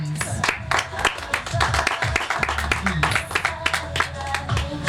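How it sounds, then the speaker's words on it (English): Audience applause at a jazz festival media launch, a steady round of clapping that fills the room for the full stretch, with voices mixed faintly underneath. "I just want us to just give another round of applause to J.O.M."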